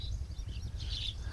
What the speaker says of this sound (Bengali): বাইরে পাখির ডাক